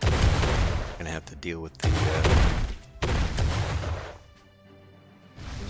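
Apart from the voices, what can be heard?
cannons firing in video game Uncharted Ocean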